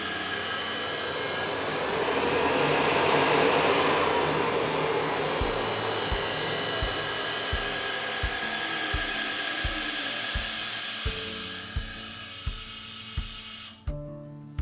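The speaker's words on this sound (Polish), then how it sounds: "ten wał silnika powinien nam się zatrzymać w miejscu" An inverter-driven electric fan motor spins down under DC injection braking, a broad whooshing whir that fades, then a series of regular low thumps as the shaft is held, ending in a sharp clunk.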